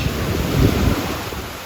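Ocean surf at Santa Rosa Beach, waves rolling and crashing in a steady broad roar with wind buffeting the microphone, swelling slightly midway and then settling, with no voices.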